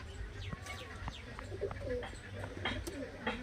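Soft coos of Murshidabadi Giribaz pigeons repeat in the background among faint chirps, with a low steady rumble underneath.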